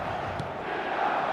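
A dense stadium crowd roars continuously during an eFootball 2025 online match, a broad, steady wash of cheering at a distance with no distinct voices standing out.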